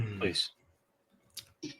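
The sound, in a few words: computer keyboard typing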